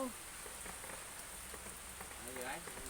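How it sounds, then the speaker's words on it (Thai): Rain patters steadily on a surface, a soft continuous hiss with a faint voice and some chirping sounds over it. "บรรยากาศฝนตกลิน"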